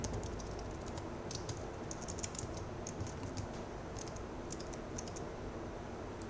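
Rapid keystrokes on a computer keyboard tap along in quick clusters, fairly faint over a constant background hiss, with no voices.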